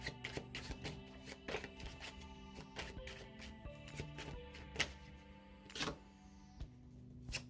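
Tarot cards being shuffled by hand in a quiet room, a steady run of soft papery riffles and taps with a few sharper slaps, close and fairly faint, with no voices over it.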